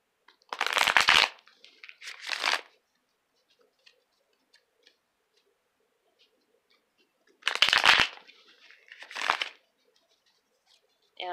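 Two bursts of tarot card shuffling, each a quick riffle followed by a second shorter one, close up with quiet pauses between.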